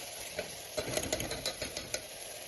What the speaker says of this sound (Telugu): ఈ అల్లం వెల్లుల్లి పేస్ట్ వేసుకుని అల్లం వెల్లుల్లి పేస్ట్ పచ్చివాసన పోయేంత వరకు ఒకసారి మనం ఇలా వేపుకుందాం